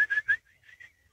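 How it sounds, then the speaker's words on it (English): A person whistles a short command to a working dog during ox-drawn ploughing: two quick sharp whistle blasts, then fainter trailing whistled notes, fairly close and with no talking. "because I've just whistled"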